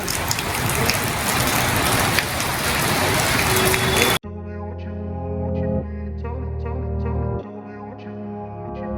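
Heavy rain in Solapur pours down as a loud, dense hiss for about four seconds, then cuts off abruptly and music takes over.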